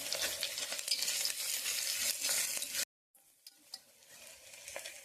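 Chicken sizzles and fries in ginger garlic paste while being stirred, the loud steady frying stopping abruptly near the middle and returning more quietly with occasional scraping clicks.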